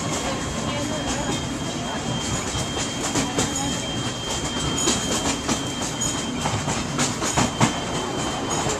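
Steam train at Disneyland rolling along its rails, a steady rumble with clickety-clack wheel rhythm and occasional squeaks, carrying on continuously beneath faint background voices.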